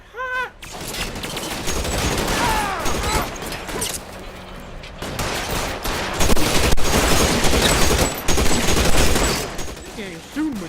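Rapid bursts of gunfire from the LA Noire video game crackle in loud volleys and scattered single shots over about ten seconds, with voices talking and shouting between and under the shooting.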